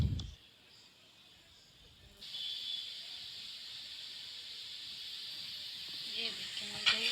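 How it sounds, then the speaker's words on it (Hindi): Yogurt and masala frying in ghee in a pan for a quail masala, a steady close sizzling hiss that starts softly and swells after a couple of seconds, continuing evenly with no talk. "अब दही को भूनेंगे, दही भूनने में थोड़ा सा टाइम लेगी।"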